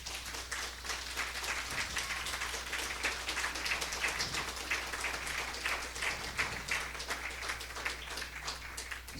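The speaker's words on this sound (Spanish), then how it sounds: "Dale un aplauso al Señor" A church congregation gives a long, steady round of applause, dense, even clapping carrying on for several seconds with a low hum underneath.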